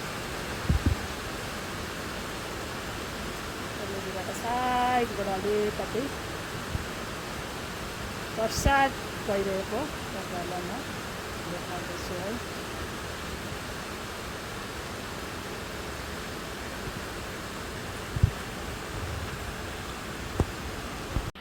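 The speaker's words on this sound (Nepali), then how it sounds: "पानी पर्दैछ है साथीभाइ हो।" Rain falls on a full-moon evening as a steady, even hiss throughout. A person talks over it now and then.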